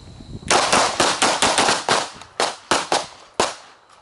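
Pistol shots fired at left and right targets on a close-quarters range ring out loud and sharp, about ten reports in quick irregular bursts, each with a short ringing decay.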